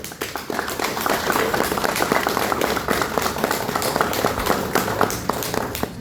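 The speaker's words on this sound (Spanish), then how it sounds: "demos la bienvenida a la senadora y a Gildardo Silva con un aplauso" A crowd at a political campaign event for Senator Aida Avella and Gildardo Silva claps steadily and loudly for the full stretch, a dense patter of many hands with a few sharper individual claps.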